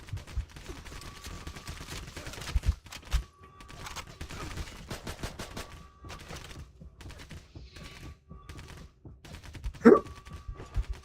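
Rapid bursts of assault rifle fire in the shooter game Medal of Honor Heroes 2, steady and fairly loud through most of the stretch, with short pauses and a sharp louder crack near the end.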